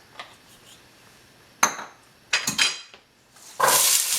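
Carrots sautéing in a hot pan with olive oil, heard as a few separate clatters and scrapes of utensil on pan and a burst of loud sizzle near the end, set against quiet gaps.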